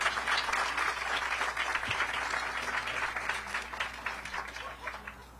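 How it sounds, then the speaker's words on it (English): A crowd at a health and birth center ribbon-cutting ceremony applauds staff, steady dense clapping from many hands at moderate distance that tapers slightly toward the end, with a faint voice underneath. "Let's give my amazing staff a great round of applause for all they do every day."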